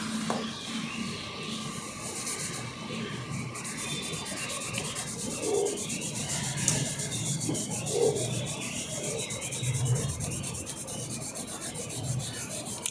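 Cotton rubbed on paper to blend colours on a geography practical slope map, a steady soft scratchy rubbing heard close and alone for several seconds.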